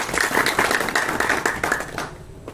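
An audience at a community meeting applauds to welcome Ramjay as the new block president, a loud, dense burst of clapping that fades out near the end.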